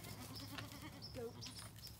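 Goats and a buck stand in their feed-filled stalls on a farm during a tour and give a few faint, short bleats over a quiet background murmur.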